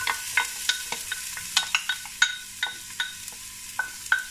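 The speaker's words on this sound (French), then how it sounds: "On va rôtir un tout petit peu les oignons." Onions fry in a little oil while a wooden spatula scrapes and taps the pan in a quick irregular rhythm of about a dozen distinct strokes over a soft sizzle; close and clear, no voices.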